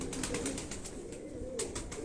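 Pigeons coo softly and repeatedly at a rooftop loft, low murmuring calls overlapping with faint sharper chirps in the background.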